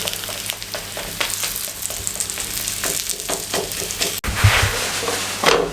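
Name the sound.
cheese paratha cooking in a pan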